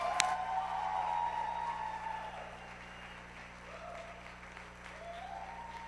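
A room full of audience members breaks into steady applause welcoming President Porterfield at a campus R Day event, dense clapping that gradually thins and softens over several seconds, with no talking.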